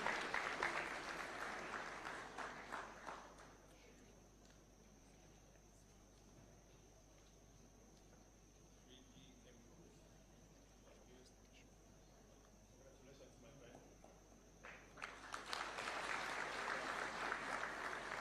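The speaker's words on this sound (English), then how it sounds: "A round of applause kindly." Audience applause for an award winner at a taxpayer awards ceremony in Kenya comes in two bursts, a round of clapping that dies away early, a quiet stretch with a faint steady hum, then clapping rising again at the end.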